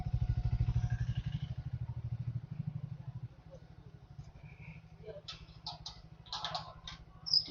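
A motorcycle engine is left idling up close, chugging in a steady, rapid throb that drops slightly in loudness partway through, while a person speaks quietly over it and faint clicks and rustles follow.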